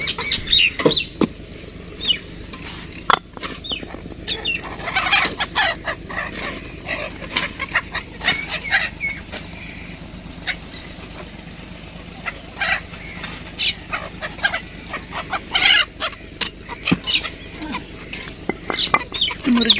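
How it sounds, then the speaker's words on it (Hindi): Roosters scuffle and cluck in sharp, irregular bursts, with flapping and scratching noises close by over a steady outdoor background. "मुर्गे लड़ी जाते आपस च"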